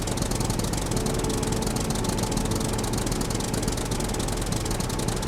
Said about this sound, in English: it's so friggin' loud inside of this